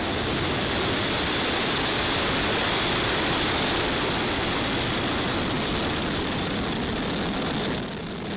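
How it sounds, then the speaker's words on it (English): SpaceX Falcon 9 rocket ignition and liftoff on a Starlink launch, a loud, continuous, broadband roar that stays powerful throughout and dips slightly at the end. "Ignition and liftoff."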